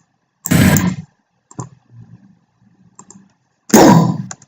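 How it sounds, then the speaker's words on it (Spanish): Two sharp, loud bursts like gunshots, seconds apart, with a few quieter clicks and thuds between them; a recorded gunshot sound effect for a Space Invaders game made in Scratch. "ya tenemos un sonido de disparo"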